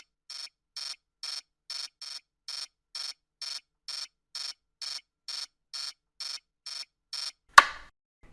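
A sump pump control alarm beeps after the pump's overload trips, sounding about fourteen evenly spaced electronic buzzes at close range, then a sharp click as it cuts off.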